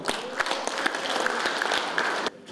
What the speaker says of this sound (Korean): 우리 손길시 하는게 다시 한번 큰 축하의 박수 한번 해주시죠